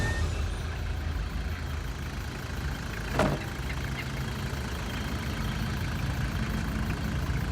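A vehicle engine idles steadily before a long road journey, a continuous low rumble with one brief click partway through and no voices.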